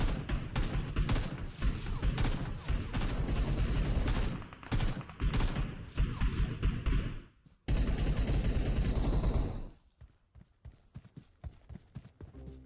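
Rapid bursts of AK rifle gunfire from a mobile shooter game, played on an iPhone 16 Pro Max, rattle loudly in dense clusters for most of the stretch, break off briefly, then resume before fading out near the end.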